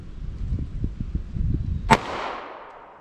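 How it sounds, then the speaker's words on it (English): A single 9mm Taurus pistol shot is fired at a range from 5 yards over a chronograph. After a few soft muffled thumps, one sharp, loud crack lands, followed by a short fading ring. "get started with shooting these handguns and just see how they compare"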